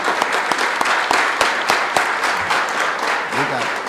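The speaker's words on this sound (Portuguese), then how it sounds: "Uma salva de palmas para todos os jovens que estão aqui." An audience at an anti-drug lecture applauds the young people in attendance, a steady dense clapping from a roomful of people with a few sharper claps up front, while faint voices murmur underneath.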